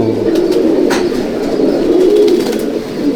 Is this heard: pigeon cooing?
yes